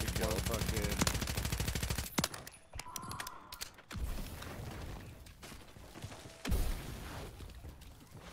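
Rapid automatic gunfire in a zombie shooter video game rattles hard for about two seconds, then gives way to scattered, quieter shots and thuds with talking over the game sound.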